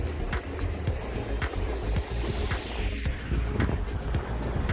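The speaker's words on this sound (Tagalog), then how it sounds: "Ang ganda-ganda po ng alon." Ocean waves roll onto the shore along the bay at Binmaley, Pangasinan, a continuous wash of surf with repeated crashing surges and rushing water, close and moderately loud.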